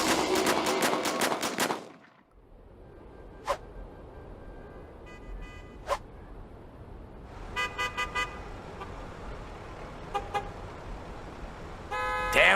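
Car horns honk in a zombie-panicked traffic jam near San Francisco's Golden Gate Bridge, with a loud burst of horns at the start, then single beeps and clustered honks scattered over a low traffic rumble.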